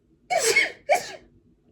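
One person sneezes in two quick bursts, a sharp first blast followed by a shorter second one, loud and close, with no talk over it.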